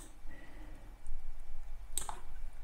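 Computer mouse click on a desktop while working in a design program, a single sharp click near the two-second mark against quiet room hum.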